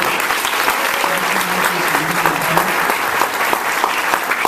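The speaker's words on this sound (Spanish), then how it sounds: "un aplauso para Gaby." Sustained audience applause for a guest named Gaby at a business gathering in Elgin, a dense, steady wash of many hands clapping at full volume for the whole stretch with no talk on top.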